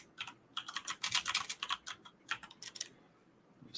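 Rapid bursts of keystrokes on a computer keyboard, close up and alone, clattering in quick irregular runs with short pauses between them.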